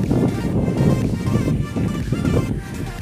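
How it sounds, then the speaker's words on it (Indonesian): Strong wind gusting across an open rice field, a loud, rumbling buffet against the microphone that swells and eases in waves throughout. "Anginnya kencang karena ini di sawah. Jadi mungkin suaranya berisik ya."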